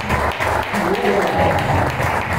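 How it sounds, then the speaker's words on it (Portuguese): A church congregation applauds together, dense continuous clapping at full loudness with a voice carrying faintly over it. "Uma linda salva de palmas."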